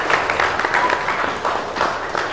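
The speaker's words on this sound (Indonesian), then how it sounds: "Oke, tepuk tangan semuanya" A short burst of group applause from children, many hands clapping steadily at moderate volume for a couple of seconds, with faint voices beneath.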